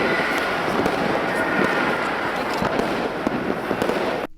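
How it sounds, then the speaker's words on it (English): Fireworks soundtrack playing back in the DaVinci Resolve video editor: a loud, continuous crackle of bursts and pops with scattered sharper bangs, ending abruptly. "you can hear both the mountains and the firework audio tracks playing at the same time"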